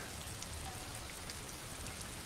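Steady rain falls in the video game Disco Elysium, a dense even hiss of drops on surfaces continuing throughout with no voices, moderately loud and uniform.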